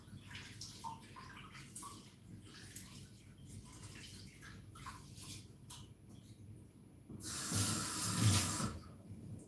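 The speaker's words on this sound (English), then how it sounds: "you have to wash your rice like multiple times" Rice is washed in water by hand, with soft swishing and light splashes that swell into a louder rush of running water toward the end.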